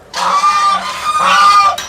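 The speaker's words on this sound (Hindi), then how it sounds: "ये देखो भाई साहब, बड़ी सुंदर बत्तख है भाई साहब।" Pet ducks kept at a large old farmhouse let out loud, close, drawn-out nasal honks in two sustained calls that dominate the scene.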